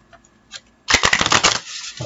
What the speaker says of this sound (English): So now let me clear these cards.